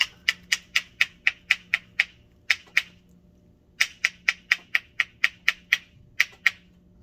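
Sharp clicks of wooden claves struck together in quick even runs, about eight to ten taps each, with pauses between bursts; bright and close, no voices.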